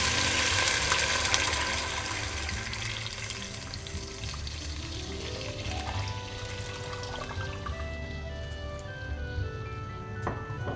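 About one and a half litres of water pours into a pot of cooked chicken for chicken corn soup. The pour is steady and continuous, close by, and its pitch rises gradually as the pot fills. No one speaks.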